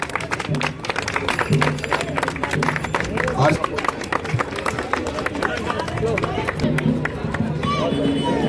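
A neighbourhood crowd at a ward gathering applauds loudly and steadily, a dense clatter of many hands running throughout while voices talk over it.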